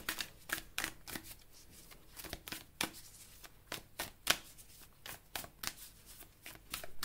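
Tarot cards are shuffled by hand for a reading, heard up close as a quick series of crisp, papery riffles and slaps in irregular bursts, with no talking.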